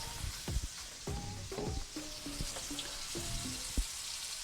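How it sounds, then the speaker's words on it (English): A ribeye steak sears in a hot pan with a soft, steady sizzle and occasional pops and scrapes, fairly faint and close, with no talking. "Let's hear the sear."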